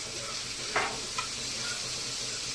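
Soy sauce hits a hot frying pan with a steady close sizzle and a couple of brief sharper hisses as it spatters.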